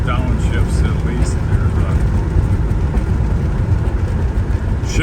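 1966 Chevrolet El Camino with a manual gearbox, heard from inside while driving, a loud steady low engine and road rumble throughout with no clear break for a gear change.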